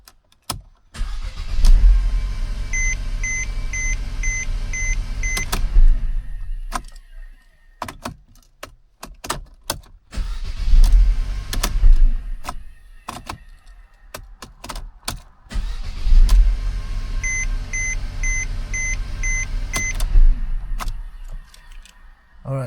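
A Mercedes C250 that would not crank, now fitted with a new starter, is started three times, each time cranking briefly and catching into a loud idle that runs a few seconds before shutting off, with quiet gaps between attempts.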